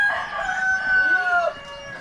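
A rooster crows loudly and close by, one long drawn-out call that trails off, with no talk around it.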